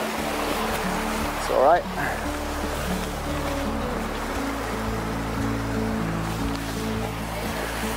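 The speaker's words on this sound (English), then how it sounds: "I think that's the only river we need to cross today" River water flows steadily during a stream crossing on Blencathra, a constant rushing wash while a person speaks briefly over it.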